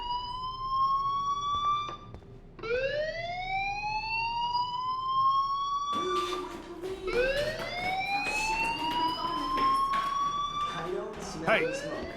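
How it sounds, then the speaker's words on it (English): A fire alarm rings inside the Life Is Strange video game, sounding as loud electronic wails that sweep upward in pitch, cut off and start again several times over about twelve seconds. "Hey, do you hear that fire alarm?"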